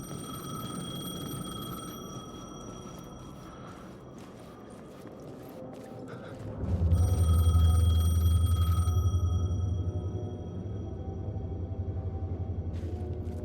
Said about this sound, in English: phone was ringing. Somehow I knew the call was for me.